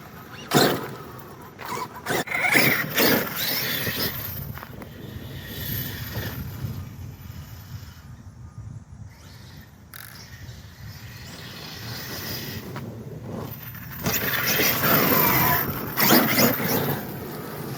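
An Arrma Outcast 8S EXB RC car driven at quarter throttle, giving a fluctuating motor whine and rolling noise with bursts of acceleration, close by and continuous, with no talking.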